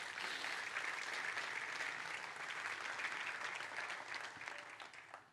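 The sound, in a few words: congregation applauding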